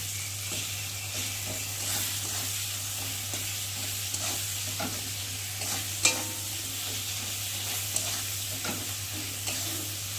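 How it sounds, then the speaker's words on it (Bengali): A spice paste of tomato, ground cumin and ground ginger sautés steadily in a pan, a dense continuous sizzle broken by scraping stirs and a few sharp clinks of the spatula, with no voices. "চলো মশলাটা ভালোভাবে কষিয়ে নিই"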